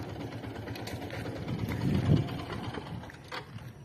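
A large passenger trawler's engine rumbles on open water, a steady low drone swelling slightly mid-clip amid faint wind, with no talk.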